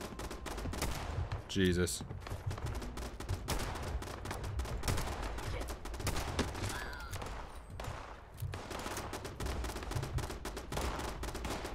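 Gunfire from enemies in Fallout 76 crackles in rapid bursts and volleys throughout, fairly close and loud, with a voice exclaiming briefly over the shooting.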